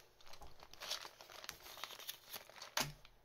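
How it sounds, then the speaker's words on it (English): The plastic bag of an Airfix 1/72 scale Focke-Wulf Fw 190D model kit crinkles and rustles as it is cut open, with quiet, irregular close crackles and one sharper snap near the end. "Just get a pair of scissors out because I've not opened this kit up yet."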